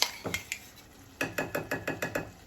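A spoon scrapes and knocks inside a cooking pot while onion paste is stirred, starting with a few scattered clinks and then settling into a steady run of about eight rhythmic metallic strokes, close and loud.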